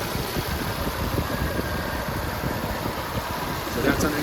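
A 2004 Audi Allroad's twin-turbo V6 idles under an open hood, a steady close, loud mechanical hum with a fan-like whir and a faint rhythmic pulse throughout.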